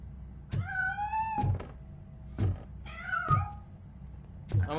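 A cat meows in Robocop: Rogue City, several rising, wavering meows spaced over a few seconds, fairly close and clear, interleaved with dull thuds.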